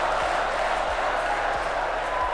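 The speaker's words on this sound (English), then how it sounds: "The crowd is so loud." Loud crowd roaring and cheering at a Shock Wave match, a dense continuous wall of voices with faint rhythmic thumps underneath, sustained at full volume throughout.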